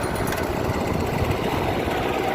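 A Royal drywasher's small engine idles steadily with a continuous, loud rumble and rattling vibration, blowing air, running alone with no talk.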